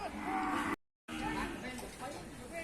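Brahman crossbreed cattle at a Thai livestock market moo loudly and close by in long, drawn-out calls, broken by a brief silent gap, over a low murmur of background activity.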